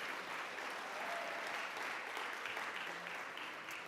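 Crowd at a mayor's arts awards ceremony applauding emerging artists, a short, even burst of many hands clapping at a fairly distant, subdued level with no talk over it.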